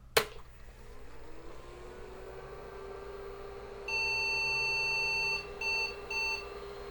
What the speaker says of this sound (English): Seems to be his normal beep.